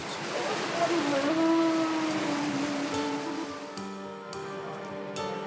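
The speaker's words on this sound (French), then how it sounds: "La houle et les vagues l'emportent." Sea swell and waves wash continuously along the sandy Tunisian coast, a steady broadband roar with a narrator speaking over it and low tones drifting underneath.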